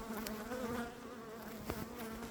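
A dense, steady buzzing of many honeybees, continuous and moderately quiet, heard up close at an open hive.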